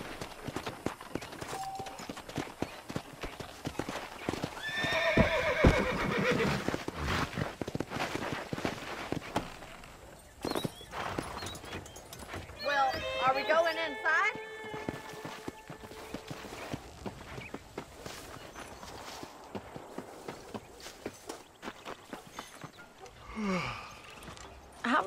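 Horse hooves clip-clop unevenly across the ground in Red Dead Redemption, with a couple of snorting neighs breaking through, heard close amid shuffling footsteps and ambient outdoor noise.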